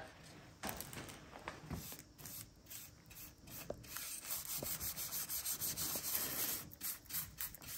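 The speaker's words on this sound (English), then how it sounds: "I'm gonna brush on French polish" A brush applies French polish to a wooden surface in a workshop, giving soft repeated rubbing and swishing strokes, quiet and close, with steady friction noise throughout.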